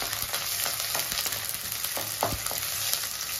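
Chicken and onions frying together in a pan for biryani, with bay leaf and cinnamon already fried in the oil, a loud dense sizzle punctuated by stirring clatters close by.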